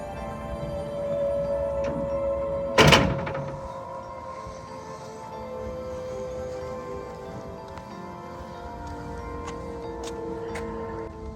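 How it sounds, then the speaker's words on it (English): Power sliding door on a 2011 Dodge Grand Caravan with a VMI one-touch infloor wheelchair ramp opening and deploying: a sharp clunk of the latch releasing, then a sustained motor hum with faint ticking clicks as the mechanism runs. "This is going to open the door, deploy out the ramp, and it will also lower the vehicle."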